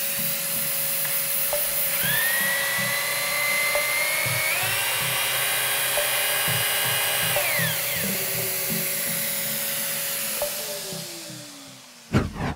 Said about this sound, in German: Wir nehmen unsere Schlagbohrmaschine und stellen hier natürlich den Schlag auf aus, bringen den Bohrer ein